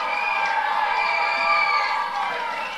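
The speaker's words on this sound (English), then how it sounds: "The crowd is going wild." A backyard wrestling crowd cheers and shouts in a loud, steady roar of many voices with high whoops and children's yells, sustained throughout with no pause.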